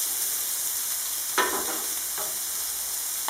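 Chopped onion dropped into hot olive oil in a pan, a steady hiss of frying with two brief louder bursts of crackle as it hits the oil.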